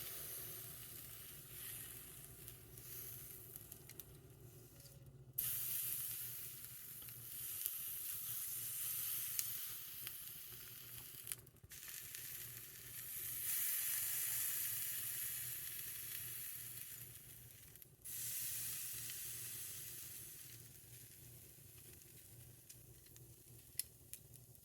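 Cajun-seasoned tuna steak searing on a Samsung NE63B8211SS induction range, a steady close sizzle and crackle that swells in loud bursts and briefly drops away a few times, with no talking.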